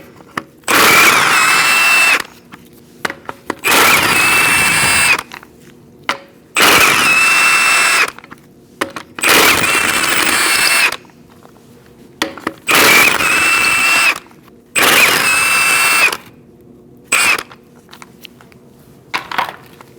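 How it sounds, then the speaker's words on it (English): An impact wrench with a 19mm socket spins lug nuts off the wheel of a 2004-2012 Chevrolet Colorado pickup: seven loud, harsh whirring bursts of about two seconds each, with short quiet gaps between them and no talking. "Using a 19mm socket, we're going to remove our wheel."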